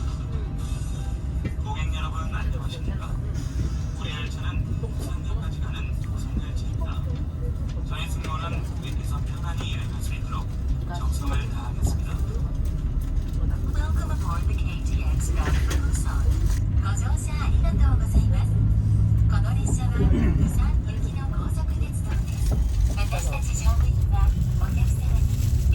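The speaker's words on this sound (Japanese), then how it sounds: "9時33分、韓国の首都ソウル駅を発車しました。 日本の新幹線とは違ってかなりゆっくりとした滑り出しです。" A Korean KTX high-speed train pulling slowly out of Seoul Station, heard from inside as a continuous low rumble and hum that builds slightly as it gathers speed, with a voice talking over it throughout.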